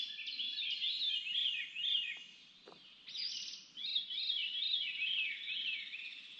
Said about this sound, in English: that is the coolest bird